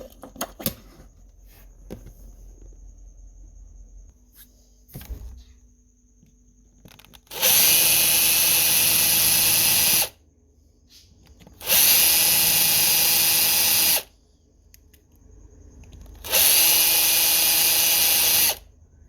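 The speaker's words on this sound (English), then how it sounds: "I'll drill it out, get the car apart" A power drill bores out rivets to take apart a lowrider car, running in three loud, steady bursts of a few seconds each, separated by quiet pauses with faint handling knocks before the first.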